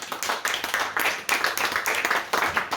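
A literary conference audience applauds, a fairly close patter of many hands clapping in uneven pulses that rise and fall over a few seconds.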